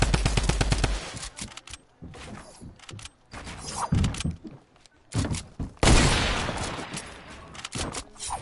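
Loud bursts of automatic gunfire and single sniper-like shots from a first-person shooter game ring out in rapid clusters, with sharp cracks and dense fusillades separated by brief lulls.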